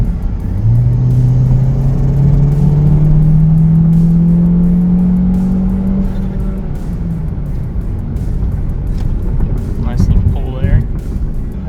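A car pulls hard in third gear, its engine note rising steadily in pitch over several seconds as it accelerates, loud and close inside the cabin, then easing off toward the end with a bit of road and wind noise.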